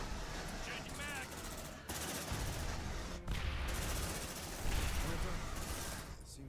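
Gunfire in the squad game Aliens: Dark Descent, where pulse rifles lay down suppressive fire: heavy continuous automatic bursts with rumbling impacts, loud and close, with short shouted voice lines over the combat.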